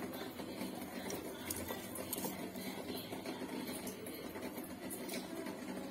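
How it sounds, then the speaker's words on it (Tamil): A kitchen mixer grinder grinds pepper and chopped onion with a steady, muffled whirring hum that runs through the clip without pause or talk. "இந்த மிளகு கூடவே கட் பண்ணி வச்சிருக்க இந்த வெங்காயத்தையும் அரைச்சிக்கலாம்."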